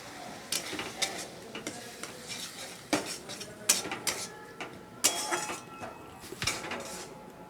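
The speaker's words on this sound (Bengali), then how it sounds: "মশলাটা যাতে পুড়ে না যায় একটু জল দিয়ে আমি ভালো করে কষিয়ে নেব।" Spice paste with a splash of water being stirred and fried in a pan for a rohu fish and potato curry, with repeated scraping and clinking of a metal spatula against the pot over a low background sizzle.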